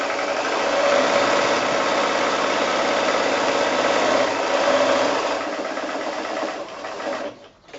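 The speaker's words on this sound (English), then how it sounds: "I'm just going to sew 1/2 inch along these folded edges, 1/2 inch in from the folded edge" A sewing machine runs in a fast, steady, close whirring hum while stitching the folded fabric corners of a lotus bag, then slows and stops near the end.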